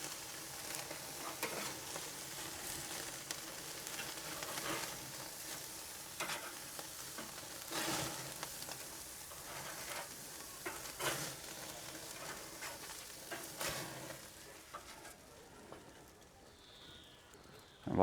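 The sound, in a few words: bacon cheeseburger patties sizzling on the grill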